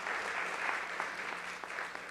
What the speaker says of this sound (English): let's have another round of applause for all of our honorees